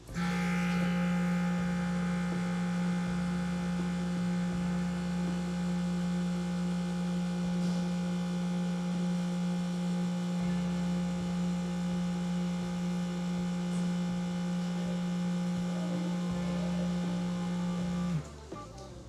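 A high-pressure hot parts washer runs while blasting grease off a part, producing a loud, steady, tonal machine hum that holds unbroken for almost the whole stretch before cutting off near the end.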